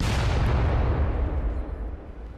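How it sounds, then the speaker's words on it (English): A deep, rumbling explosion from the war shooter video game Spec Ops: The Line booms loud and close, then decays over about two seconds with no talking. "Explosions everywhere."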